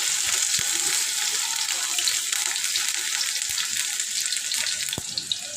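A cup of onions frying in about half a cup of hot oil for a large biryani, a loud, even, close crackling sizzle throughout with a few sharp clicks near the end.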